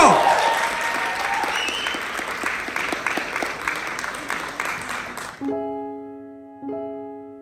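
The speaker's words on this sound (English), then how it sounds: "And a massive round of applause for Grace!" A live talent-show audience in Wales applauds a singer about to perform; loud, dense clapping and cheers fade out after about five seconds, giving way to sustained piano-like chords as the music begins.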